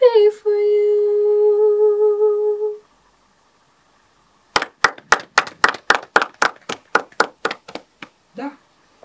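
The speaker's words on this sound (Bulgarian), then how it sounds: "Ние ще ръкопляскаме с това." People in a music studio clapping along in a steady rhythm, a run of a dozen or so sharp, close claps that follows a sustained sung or played tone and a pause, with talking present.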